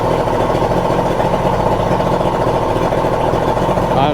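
A boat engine idles steadily and loudly, a constant low rumble with no breaks over the few seconds, on the water with a suspected key switch or engine harness problem.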